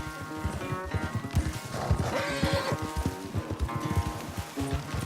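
Horse in Red Dead Redemption 2 neighing and whinnying over steady hoof clip-clop, a race at a gallop toward a homestead; loud, close and continuous, with a bright whinny mid-way.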